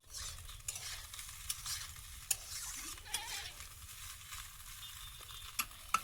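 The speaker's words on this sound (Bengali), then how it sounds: "মাছগুলো ভাজা হয়েছে" Small fish fry in oil with a steady, quiet sizzle, broken by sharp scraping clicks of a spatula stirring the pan at irregular intervals.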